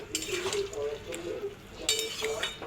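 A spoon stirs fish roe fritters and potato curry in a pan, with soft scraping and light clinks over a gentle simmer, and a voice talks now and then.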